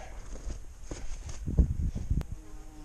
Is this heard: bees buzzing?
yes